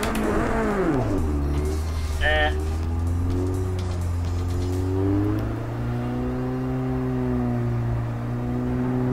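A car engine in Project Cars 2 revs up sharply, then settles into a droning steady hum with rising and falling pitch as it idles and blips, while someone talks over it.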